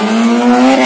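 Honda Jazz drag race car accelerating hard at a drag race event, a loud, close engine whine with a steady rising pitch and rough broadband roar, heard alone.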